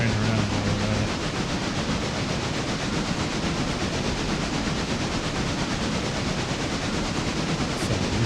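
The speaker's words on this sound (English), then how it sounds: "We're gonna go ahead and turn this train around while we're at it." A train turns around in the Railroader game, a continuous loud rolling rumble and wheel noise with a hissy wash throughout, a low engine drone standing out briefly at the start.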